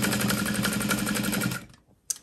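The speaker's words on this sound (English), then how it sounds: "I'm going to stay stitch this into place." Sewing machine stay stitching a handbag panel, a rapid even mechanical whirring close by that runs steadily, then stops abruptly, followed by a single sharp click.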